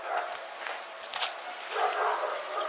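A police dog barks and yips in short bursts with a whimper, moderately close, amid vehicle cabin noise and faint voices.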